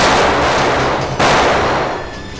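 Two sharp, loud gunshots crack close by about a second apart, each leaving a rumbling echo that fades away.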